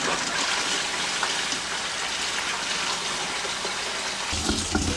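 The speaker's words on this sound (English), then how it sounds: "5 gallon bucket that I dumped into this tank" Water dumped from a 5-gallon bucket into an RV septic tank, a steady rushing gush that runs for several seconds close by, then ends in a lower splashing burst.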